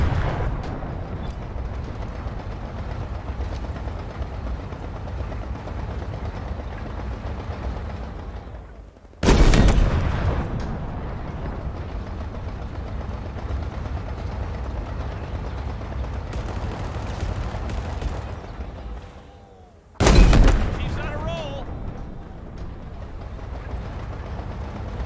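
Two heavy Scorpion tank cannon blasts in Halo Infinite, each a sharp loud boom with a rumbling tail, roughly ten seconds apart over steady battlefield noise.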